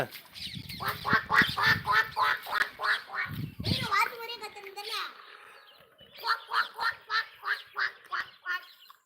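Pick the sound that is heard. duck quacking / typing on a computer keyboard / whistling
duck quacking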